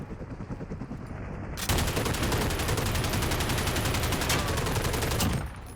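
Sustained automatic gunfire in Call of Duty: Modern Warfare (2019) bursts in abruptly and roars on as a dense, continuous rapid-fire stream for several seconds, loud and close, then cuts off near the end.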